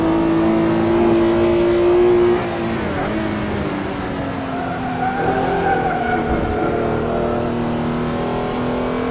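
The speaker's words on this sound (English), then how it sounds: "You can just plant your foot in the throttle and it just hooks up." A Porsche 911R in the GT Legends racing game pulls hard around the Nurburgring, its engine note loud and sustained, dropping briefly after a shift then climbing again, with faint tire noise mixed in.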